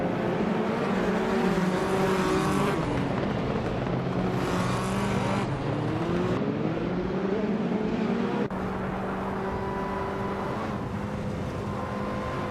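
2007 Honda Civic FA race cars in a racing game, several engines droning together, revs climbing and dropping through gear shifts, loud and continuous with one car's pitch suddenly cutting lower partway through.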